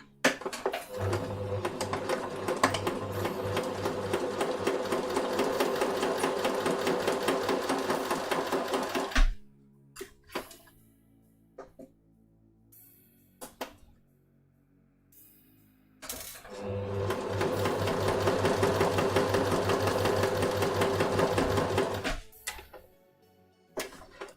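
A sewing machine stitches a shirt placket in two long fast bursts of rapid mechanical clatter, separated by a quiet stretch of faint clicks and handling, close and loud with no talk.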